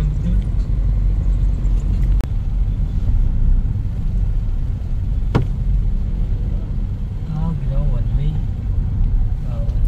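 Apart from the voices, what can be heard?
road traffic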